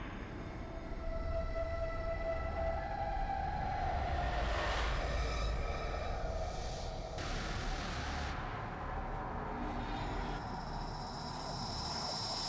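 A train in The Outlast Trials rolls along with a steady low rumble and constant clatter, with a high metallic whine and a few squeals and hisses rising over it, continuous and fairly close for the whole stretch.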